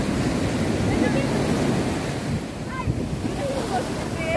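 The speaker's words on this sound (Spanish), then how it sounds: "Cuidado, cuidado, cuidado ahí con las olas." Sea waves breaking and washing onto a beach at sunset, a steady loud surf roar with wind buffeting the microphone and a few faint voices in the background.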